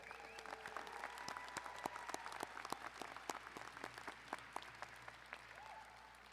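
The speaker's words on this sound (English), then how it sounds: "Let's give them a round of applause." Audience applause at a high school graduation ceremony, steady clapping from a crowd of many hands, moderately distant and sustained throughout with no talk over it.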